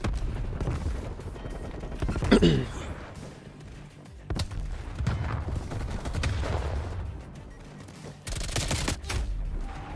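Shotgun blasts and other gunfire boom in a Call of Duty Cold War match, with sharp loud reports in bursts over constant game noise. A player talks over the action.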